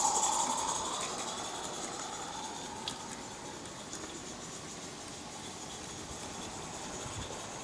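The Countess steam locomotive on a miniature railway passes Penryn Loop, giving a steady mid-distance rumble with faint clicking and a soft hiss that fades slightly as it goes by, with no voices.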